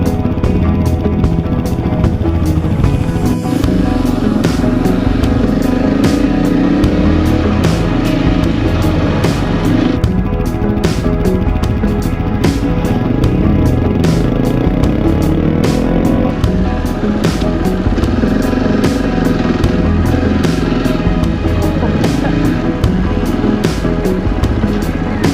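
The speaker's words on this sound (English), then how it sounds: "we had the pleasure of riding with Steve on the big Yamaha T7" Big Yamaha T7 adventure motorcycle ridden through high country, a loud continuous engine drone with shifting pitch and wind rumble, heard close from onboard.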